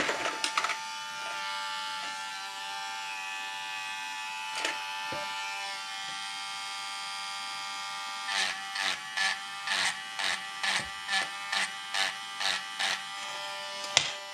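A small carbide tip deburring a freshly molded spinnerbait, heard as a close, buzzing electric rotary tool: one long steady run, then a series of short, evenly spaced bursts, with no talking.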